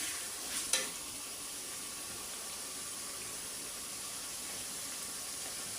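Chicken frying in oil with spices in a home kitchen: a steady, moderately loud sizzle runs throughout, with one sharp utensil clatter near the start and no talking.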